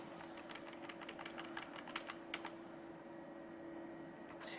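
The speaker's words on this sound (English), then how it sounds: "if you tab down to the bottom, okay, using the keyboard" Someone presses keys on a computer keyboard, using the arrow keys while troubleshooting a PC that shows a blank screen at startup: a run of light, rapid taps close by over a steady low hum, then a final tap after a pause.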